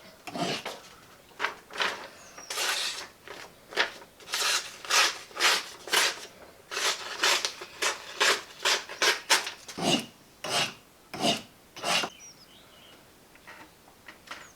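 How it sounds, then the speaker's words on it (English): Knife blade being sharpened with a guided sharpening system, a steady series of rhythmic raspy strokes, about two dozen swipes with brief pauses between them, close and clear, no talking. "all I have to do here with this sharpening system is concentrate on keeping the blade vertical"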